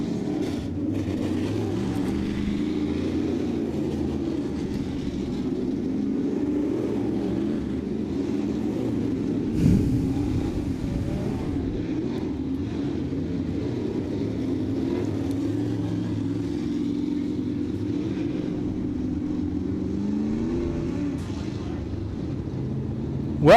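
Late model race cars roll out onto a dirt oval at Southern Ontario Motor Speedway for a heat race, a steady layered engine drone from several cars at moderate distance, with a brief louder rev midway.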